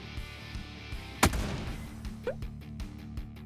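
A single sharp shot from a Lynx sniper rifle in PUBG cracks out once, loud and abrupt, followed by a short decaying tail over quiet game ambience.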